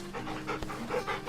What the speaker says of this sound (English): You can pet the dog. And play with the dog.